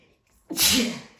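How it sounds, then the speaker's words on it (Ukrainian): A woman gives a single sharp sneeze, close and loud, with a quick intake of breath before the burst, after a moment of near silence. "Оце я чихнула."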